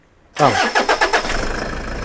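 A Toyota Fortuner's engine cranks with a quick series of rhythmic turns, catches and settles into a steady idle, loud and close.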